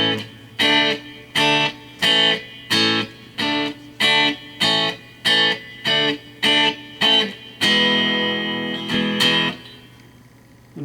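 Electric guitar from a Squier 51 played through a Yamaha THR-5 amp with reverb: a dozen short, evenly spaced distorted chord stabs, then a longer ringing chord that fades out.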